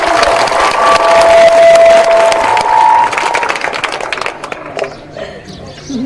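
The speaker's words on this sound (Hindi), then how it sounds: "जोर से ताली बजा के स्वागत कीजिए आप।" A large crowd at a public gathering claps and cheers loudly in welcome, a dense burst of applause with shrill whistles that fades over the final seconds, a voice faintly audible beneath it.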